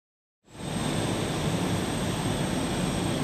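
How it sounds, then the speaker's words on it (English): A fighter jet roars in after a moment of silence, its engine noise a loud, steady broadband rush that holds without fading. "This is a fighter jet. It is smaller and faster."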